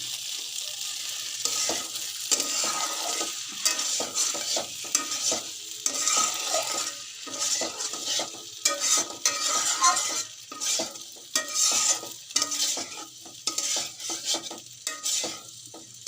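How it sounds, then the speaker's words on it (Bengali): Spicy pasta fries and is stirred in a pan, with a steady sizzle and repeated scraping and clinking of a utensil against the metal, close up and continuous, with no talk. "এটাকে আমি ভাজা ভাজা করে নিলাম"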